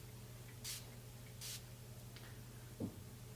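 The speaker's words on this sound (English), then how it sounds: "I'm only going to spray this on sort of the outer part of my face where I want that dewiness." Two short hissing bursts of makeup setting mist sprayed onto a face, soft and close, with a faint rustle afterwards in a quiet room, with no talking.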